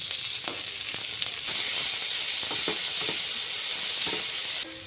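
Chopped tomatoes hit a pan of onions that have been frying until translucent, giving a steady loud sizzle with light stirring clicks, with no one talking, before the hiss cuts off abruptly at the end.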